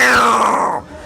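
A voice imitates a cat growling at another cat, a single drawn-out, falling yowl-like growl, loud and close, lasting under a second.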